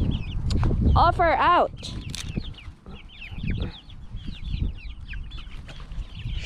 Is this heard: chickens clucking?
yes